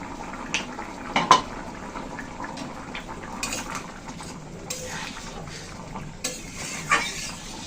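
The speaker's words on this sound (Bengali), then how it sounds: "ঢাকনা তুলে নিচ্ছে এবার।" A lid comes off a pot of simmering curry on a home stove, giving a few sharp metallic clinks and scrapes, one louder knock near the start and another near the end, over a steady low bubbling and sizzle.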